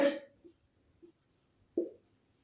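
A teacher's chalk or marker strokes on a classroom board come in a few short scratchy bursts, spaced out and moderately close, with a brief voice at the start.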